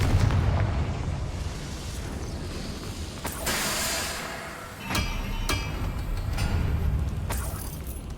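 Confringo spell explosions from the video game Hogwarts Legacy, a few sharp booming bursts at about 3, 5 and 5.5 seconds over a steady rumbling game background.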